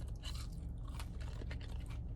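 Salty crinkle-cut fries from Portillo's are bitten and chewed up close, giving a dense run of quiet, crisp crunches with no talking.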